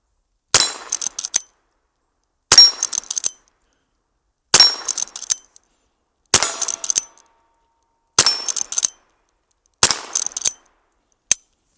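Six spaced bursts of sharp, ringing clangs as .22 short rounds from a Henry mare's leg strike a steel dueling tree target, each shot ringing out clearly with silence between.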